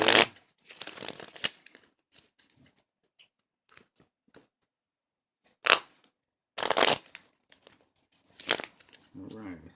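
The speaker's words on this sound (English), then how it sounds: "Shuffle these cards up really good." Stiff tarot cards riffle and slap together in quick crackling bursts, separated by quiet pauses, with a faint soft voice now and then.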